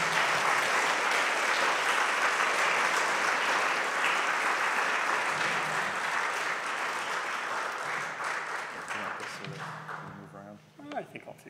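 Audience applause welcoming a president, a long, dense, loud round of clapping that holds steady for several seconds, then thins and fades as a voice begins speaking near the end.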